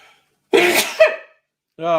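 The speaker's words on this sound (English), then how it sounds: "I think I'm going to sneeze." A single sharp sneeze bursts out after a brief pause, followed by a short voiced sound at the end.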